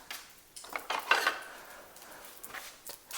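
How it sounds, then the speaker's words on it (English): A utensil scrapes and clinks against the bottom of a pressure cooker pot while deglazing for one-pot spaghetti, a few quick metallic scrapes and taps over faint sizzling, fairly quiet and close. "You got to make sure that you deglaze the bottom"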